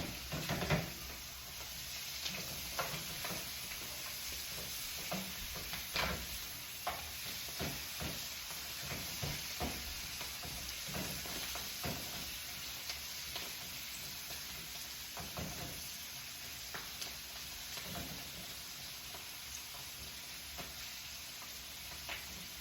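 Cabbage browns in a pan for an Irish American St. Patrick's Day dinner, giving a steady low sizzle with scattered crackles and soft stirring scrapes throughout, fairly faint and with no voices.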